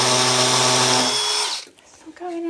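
A power drill bores into a hard, problematic bedroom wall. Its loud, high whine strains for about a second and a half, then cuts out, leaving quieter scraping and a brief, weaker spin-up.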